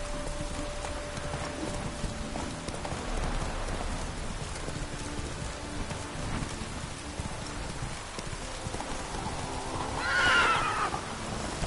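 Roach, the horse in The Witcher III, lets out a clear whinny near the end, over steady rain and soft hoof clip-clop that run throughout.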